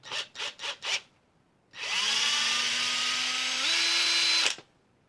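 Power drill backing screws out of a Harley Benton TE-90FLT electric guitar: four short trigger bursts, a pause, then one sustained whirring run of nearly three seconds whose pitch steps up near the end before cutting off. Close and loud, with no talking.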